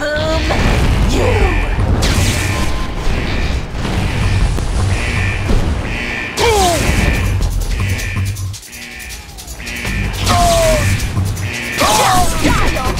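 Explosions and crashing blasts from a battle in the real-time strategy game Mental Omega, Epsilon mission, packed densely and continuously with whooshes and unit voice lines over them.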